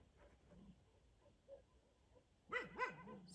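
Faint distant dog barks and whimpers at first, then two louder sharp barks near the end, heard outdoors in a Ukrainian village in freezing weather without speech.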